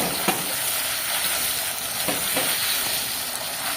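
A paste of ground jackfruit seeds and turmeric fries in hot oil with a steady, close sizzle. A few faint scrapes of stirring come through, and nobody speaks.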